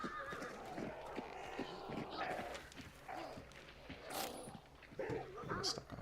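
A horse in the Hunt Showdown video game neighs and whinnies, along with clip-clop hoof sounds, over a busy game soundscape and voices.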